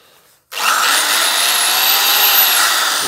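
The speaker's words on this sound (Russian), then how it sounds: "шикарная дрель. Шикарная. То есть для дрели самое оно" After a brief quiet moment, a Hyundai D-850 Expert electric drill with a keyed chuck whirs up and runs steadily at a loud, constant high pitch, close by and alone.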